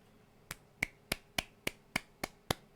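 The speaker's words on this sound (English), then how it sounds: "I don't want to clap that loud because I don't want to interrupt." Soft, light hand claps at a steady pace, about nine quiet taps in a row, close and isolated with no voices.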